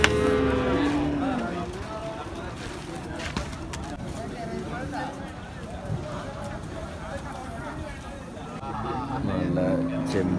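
Buffalo moo at a busy livestock market in Thrissur, Kerala, with deep calls at the start and end over constant crowd chatter and general bustle.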